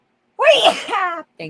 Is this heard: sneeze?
yes